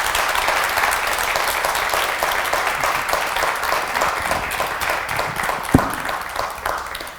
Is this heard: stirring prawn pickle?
no